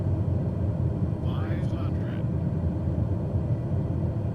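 Planes in a Cessna flight simulator game make a steady low engine rumble throughout, with a faint brief higher sweep partway through.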